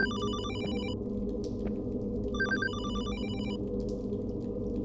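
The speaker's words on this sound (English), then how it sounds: "Oh, there's a phone. I was wondering where that was coming from." An old telephone rings in the survival horror game Hollowbody, two bursts of ringing over a constant low droning ambience and faint water sounds.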